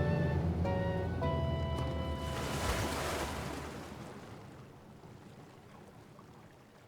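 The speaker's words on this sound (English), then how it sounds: "The water sounds are so nice in this game." Ocean waves in a video game wash in a broad surging swell over fading musical notes, then ease into a quieter, steady hiss of surf.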